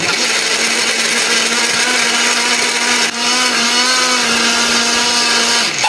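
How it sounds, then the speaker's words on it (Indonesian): A blender grinding spice paste runs continuously at high speed with a loud, steady whirring grind, close and uninterrupted throughout. "Bumbu ini akan kita haluskan menggunakan blender, beri sedikit air atau minyak ya"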